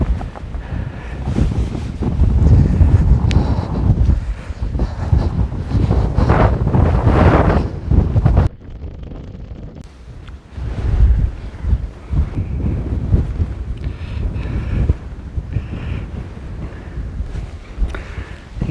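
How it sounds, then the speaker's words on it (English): Gusting wind buffets the microphone on an exposed summit ridge during a hike in the Brecon Beacons, loud and roaring for the first eight seconds, briefly dropping, then rising again in steady blustery waves. "wind is picking up"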